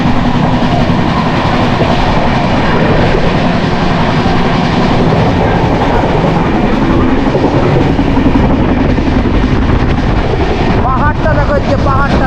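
The 12704 Falaknuma Superfast Express running through hilly country near Jajpur and Keonjhar, a loud continuous rumble and clatter of wheels on rails heard from on board, steady throughout with a brief whine near the end.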